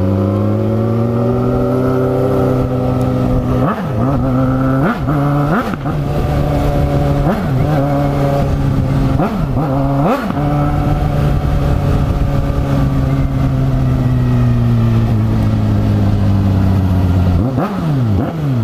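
A Suzuki SRAD 1000 sport motorcycle runs loud and close, its engine note rising and falling through a series of sharp throttle blips before holding a steady drone and pulling away.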